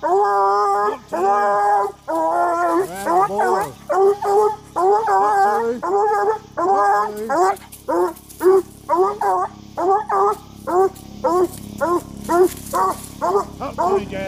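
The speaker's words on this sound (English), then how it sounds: "if he trees, you're going to get to hear some good treeing" A tree dog gives loud, close, repeated howling barks and yips while treeing, in a steady rhythmic string with short gaps between calls.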